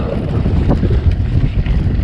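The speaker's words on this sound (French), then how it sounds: "Il y a un petit vent du nord." A light north wind buffets the microphone in a low, steady rumble with gusty swells, loud and close, with no voices present, on a shaded fitness trail at Crosagny during a mountain bike ride.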